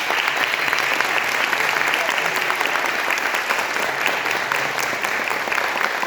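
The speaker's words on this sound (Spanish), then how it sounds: "Un fuerte aplauso" Steady, dense applause from a lecture audience fills the room at the close of a university physics talk, loud and unbroken throughout without pauses.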